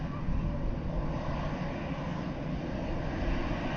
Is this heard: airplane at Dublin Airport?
yes